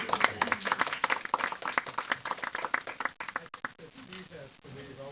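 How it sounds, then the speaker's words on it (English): Enthusiastic applause and clapping from a crowd at an academy farewell gathering, dense rhythmic hand claps with cheering voices mixed in, fading slightly toward the end. "round of applause"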